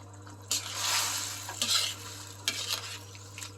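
Cornstarch slurry stirred into a sweet and sour sauce for meatballs, giving a soft sizzling bubble with scraping spoon strokes against the pan in a few uneven bursts, close and fairly quiet.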